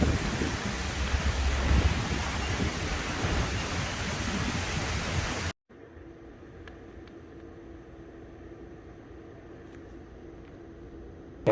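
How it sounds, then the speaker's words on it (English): Strong wind roaring on a stormy first night in Cancun, a loud steady broadband rush for about five seconds, then cutting abruptly to a much quieter low rumble of wind with faint background tones. "Very windy, very stormy."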